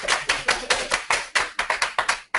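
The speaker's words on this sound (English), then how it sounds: "Can we get an applause from the live audience?" A live audience at a student panel event claps for about two seconds, a dense run of separate hand claps with short breaks between the bursts. It sounds fairly thin, like a small group in the room, and no one speaks over it.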